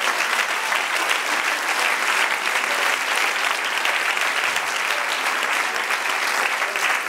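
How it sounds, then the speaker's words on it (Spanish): A church congregation claps together in sustained, dense applause that stays loud and even throughout, with no pauses and a faint murmur of voices underneath. "Den un aplauso al Señor."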